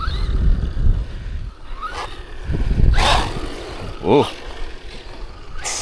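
A $50 LYNXOR budget brushless RC basher car on 3S power zips about in short bursts, its motor whining and rising in pitch as it accelerates, with wheel noise and a voice exclaiming over it.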